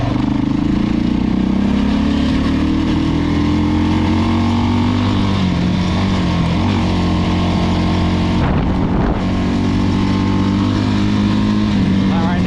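A Suzuki LTZ400 ATV engine revs steadily and loud close up after a gear shift, with wind buffeting over it and a brief dip in sound.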